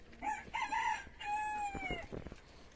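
In an aviary, a broody hen gives out drawn, wavering clucks, fairly faint, with rustling and other noise around.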